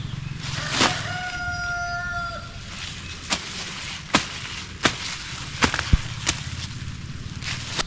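A wild chicken rooster crows once near the start, a rising then held call, followed by scattered sharp knocks and taps against steady outdoor background noise.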